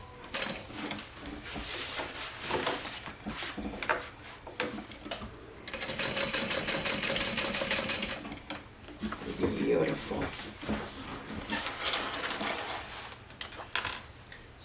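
Sewing machine stitching a rectangle to attach a bag handle, heard in bursts of rapid mechanical needle chatter with pauses and small clicks between runs, fairly quiet and close.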